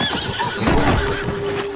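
A horse carrying a sack on its back in a film scene lets out a brief, loud whinny, up close, over rough background noise.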